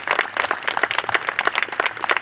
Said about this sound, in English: give them a round of applause too,